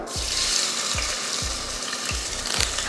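Crushed onions frying in hot sesame oil in a pressure cooker make a loud, continuous crackling sizzle up close, with soft regular thumps of stirring about every half second and no talking.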